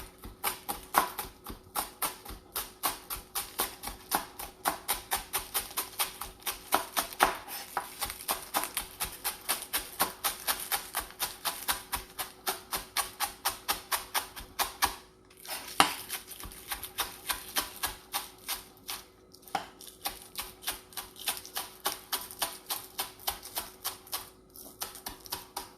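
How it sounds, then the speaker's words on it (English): A knife chops a vegetable into small rings on a board, a fast, even run of crisp taps that keeps going with only a couple of brief pauses. "I'm just going to run my knife through. Just do small rings."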